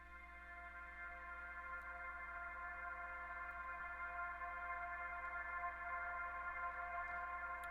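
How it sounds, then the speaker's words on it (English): A sustained synth pad from a sample pack, pitched up several semitones, holds a smooth, steady chord with stacked even harmonics and no rhythm, alone and fairly quiet. "I have this pad, which I use all the time and mostly all my tracks"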